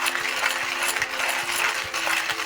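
A Porlex hand coffee grinder crushing beans, producing a continuous gritty crunching with a rhythmic ratcheting pulse as the handle turns, close up with no talking.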